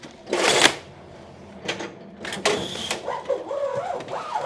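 An automatic strapping machine, the 3 GPTP 601D, straps a package with a few quick mechanical bursts of whirring and snapping, separated by brief pauses, close and moderately loud.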